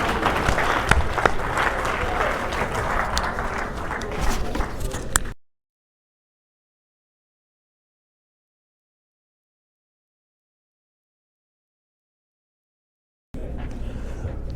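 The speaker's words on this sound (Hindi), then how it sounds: "आइए भरपूर तालियों में महशर अफरीदी साहब को माइक पर खुश आमदीद कहते हैं।" Loud crowd applause greets a poet stepping up at an annual mushaira in Jacksonville; the clapping breaks off abruptly into several seconds of dead silence, then resumes just as strongly near the end.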